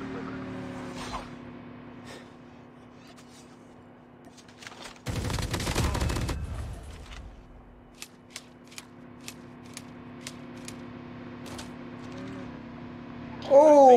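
Call of Duty Mobile gunfire: a dense two-second burst of rapid automatic fire, followed by a run of single sharp shots at a steady rhythm over a low, constant game hum.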